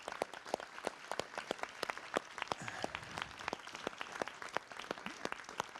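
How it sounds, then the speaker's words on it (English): Audience applause for moderators at an international policy conference, with many sharp individual claps standing out over a continuous clapping wash, fairly quiet and even throughout. "So I want just a big applause to the 3 moderators."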